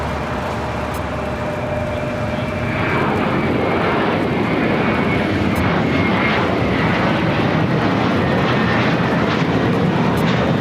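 Jet airliners taxi at LAX, a steady loud roar of aircraft engines that swells and thickens partway through, with a faint whine early on and no talking.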